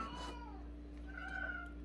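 A cat meows once or twice, moderately close but fairly quiet, with a steady low hum underneath and no talking.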